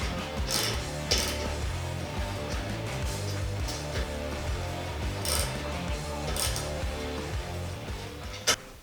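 Ratchet tightening the roof rack crossbar bolts on a Toyota 4Runner, giving a close, continuous run of clicking and grinding with a few sharper ticks and a louder clack near the end.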